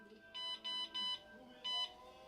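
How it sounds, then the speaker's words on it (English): Four high, steady electronic beeps from an old PC motherboard at power-on self-test, the first three close together in a quick run and the fourth after a short pause, moderately loud over a faint background hum. "I don't know what that beep code is"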